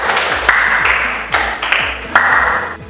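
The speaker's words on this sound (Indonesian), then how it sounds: "Untuk kelompok 1 silakan beri tepuk tangan biar semangat." A small group of students in a classroom gives brief applause for group 1, sounding as a few sharp, uneven claps close by over a quiet room with a faint tone in the background.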